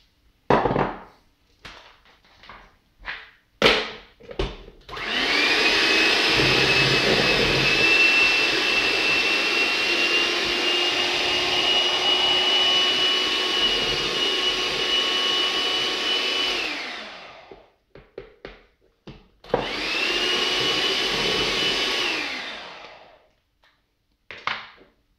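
A kitchen mixer runs with a loud continuous whirring drone while mixing waffle batter of milk and flour, preceded by clattering knocks, running about twelve seconds, stopping, then starting again briefly.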